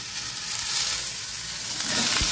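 Soaked chickpeas go into a pan where pumpkin is frying, producing a steady close sizzle with faint stirring movement throughout the short moment.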